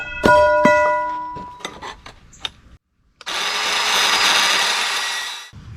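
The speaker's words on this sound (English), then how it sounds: "now we're going to go ahead and cut some 1/2 inch MT conduit, 5 inches long" Half-inch EMT metal conduit being cut into 5-inch pieces: ringing metallic clanks and scrapes at first, a brief silence, then a loud continuous harsh cutting roar lasting a few seconds before stopping abruptly.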